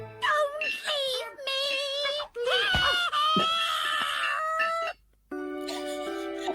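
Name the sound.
woman screaming sound effect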